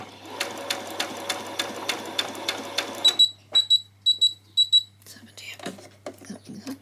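A home sewing machine stitching fabric for a peasant top runs in a fast, even rhythmic whir for about three seconds, then stops and gives several short high electronic beeps in quick pairs, followed by faint handling noises.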